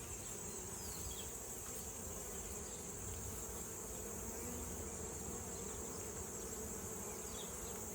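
Honey bees hum around hive frames being lifted from a honey super, a dense, continuous buzz that stays even and close throughout with no voices.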